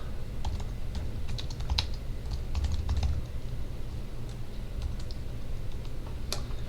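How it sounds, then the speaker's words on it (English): A computer keyboard clicks with quick, irregular keystrokes at close range and low volume, while a faint background hum runs underneath. "I'm going to type items"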